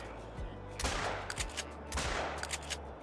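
Two hunting rifle shots in theHunter Call of the Wild boom out about a second apart, each a loud crack with a rolling echo, with small clicks between them.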